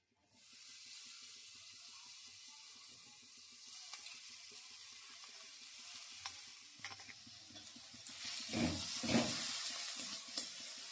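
Spices with chilli powder and turmeric being stirred into cauliflower in a hot wok, with a soft continuous sizzle and hiss and a few louder scraping stirs near the end.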